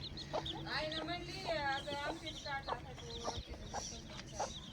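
A native country hen clucks nearby in a series of short, rising and falling calls, with people talking faintly in the background.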